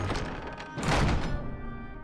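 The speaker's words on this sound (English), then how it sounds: "That sound you hear is an arrow of retribution." Arrow of retribution strike from the League of Legends Varus story: a heavy thunk at the center swells into a bright, booming impact over a dark, resonant music-and-effects bed, then rings out and fades.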